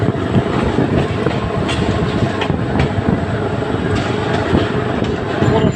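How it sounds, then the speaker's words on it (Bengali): Upakul Express leaving Dhaka Airport station, heard from the crowded carriage roof: loud continuous rumble and rhythmic clickety-clack of wheels on rails, with wind and faint crowd noise. "এই যে দেখতে পাচ্ছেন ট্রেনটি ঢাকা বিমানবন্দর রেল স্টেশন থেকে ছেড়ে যাচ্ছে"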